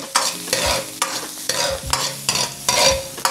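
Garlic frying in oil for fried rice and being stirred, a rhythmic series of about six scraping strokes of a spatula over a constant loud sizzle, close up with no speech.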